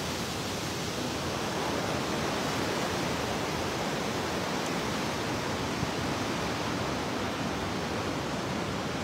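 A river runs beside Keya Patar Nouka in Kashmir, giving a steady, broad rushing wash of flowing water that stays even and continuous throughout, with no voices.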